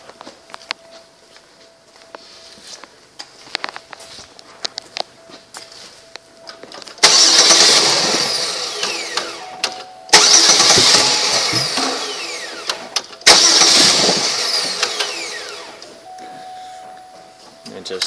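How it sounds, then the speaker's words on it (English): A 2008 Chevrolet Uplander LS minivan engine, with a broken airbox and a suspected fuel problem, cranks and catches three separate times, each run lasting a few seconds before dying, with faint clicks and low background noise between attempts. "We're just going to start it up three times so you hear it run."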